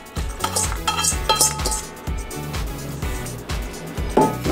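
Utensil scraping and clinking in a pan as seasoned ground beef is stirred together with onions and pepper, steady close-up clatter with no talk.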